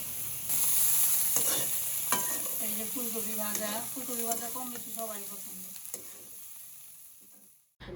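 Fried cauliflower is stirred in a hot pan as fresh coriander leaves go in, a close, steady sizzle with scraping stirs, a voice talking over the middle stretch, and the noise fading out at the end.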